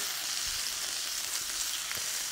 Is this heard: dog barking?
no